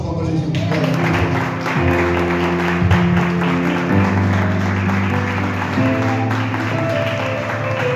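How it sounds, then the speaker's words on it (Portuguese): A church congregation claps over loud sustained organ or keyboard chords, the applause spread across the hall and partly buried beneath the music throughout. "Dá uma salva de palmas para a gente."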